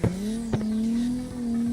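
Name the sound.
Toyota Crown drifting in a video game, tires squealing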